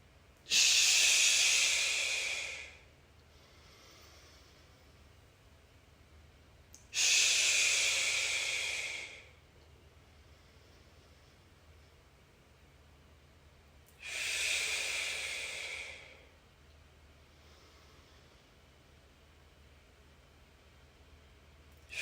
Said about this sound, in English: Inhale and go down.